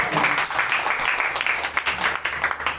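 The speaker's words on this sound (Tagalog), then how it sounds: "Palakpak natin." Congregation clapping at a Sunday fellowship of a Catholic charismatic healing ministry, a moderate, steady patter of many hands heard at a moderate distance in the room.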